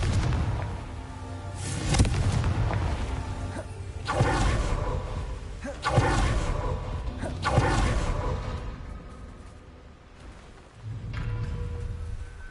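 Repeated Confringo blasting-spell explosions in Hogwarts Legacy, four or five heavy rumbling bursts about two seconds apart with whooshing tails, loud and close, with no talking between them.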